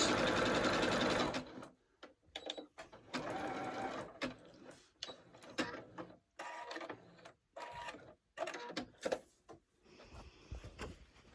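A sewing machine stitches a quilt in short bursts of rapid mechanical whirring separated by silent pauses, loud and close, with a few brief stops and restarts.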